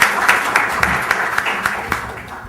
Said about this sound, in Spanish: Por favor, brindémosle un fuerte aplauso para recibir.